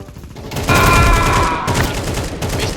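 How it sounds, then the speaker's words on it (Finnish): Counter-Strike 2 gunfire rattles in rapid automatic bursts, loud and close, after a short quiet start, keeping up a dense volley almost to the end. "Mistä mua ammutaan?"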